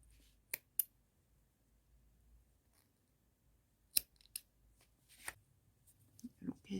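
Several quick, crisp scissor snips trim the yarn ends of a crocheted watermelon trivet, close and quiet, in irregular pairs and singles against near silence.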